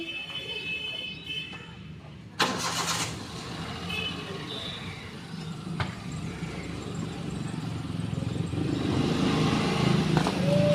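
A vehicle engine starts and its rumble builds steadily louder toward the end, with voices and outdoor noise around it.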